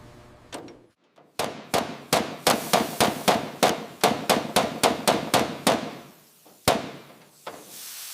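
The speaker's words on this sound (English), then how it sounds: "First bolt going in now. We are fully aligned. Start torquing." Rapid metallic strikes ring out during restoration of a WWII Halifax bomber as bolts are torqued, about a dozen sharp evenly spaced impacts in a steady rhythm, loud and close, with a few scattered knocks before and after.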